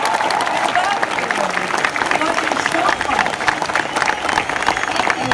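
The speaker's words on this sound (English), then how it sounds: "Let's clap for her." An audience claps steadily in a dense, continuous wash of applause, with people speaking over the clapping.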